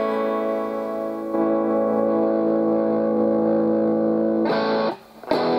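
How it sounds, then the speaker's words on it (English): A heavily distorted electric guitar chord from a Donner DST-152 kit guitar rings out loud and sustained, thickening after a second, then briefly cuts off and is struck again near the end. "So now I'll switch over to the distortion channel"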